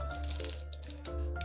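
Mustard seeds hit hot oil in a pan for kanda pohe and sizzle steadily. A dense, close hiss runs unbroken, with a brief dip partway through.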